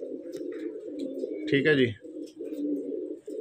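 Pure-bloodline pigeons for sale in Delhi coo softly in a steady low murmur, broken by a louder flutter-like burst midway, while someone talks nearby.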